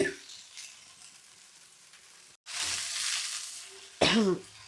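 A couple of harsh coughs close by, separated by a short pause, over a faint sizzling background of spices being tempered in hot oil.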